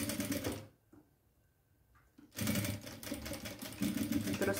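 Sewing machine stitching a beach bag, running loud and close in two bursts separated by a quiet pause of about one and a half seconds, with no talking.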